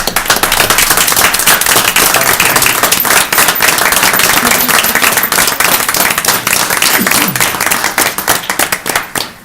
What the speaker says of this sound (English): I think that takes a round of applause